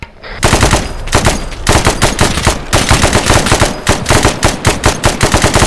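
Sustained automatic gunfire in the Arma 3 video game, loud and close, rapid bursts continuing almost without pause for several seconds with no talking.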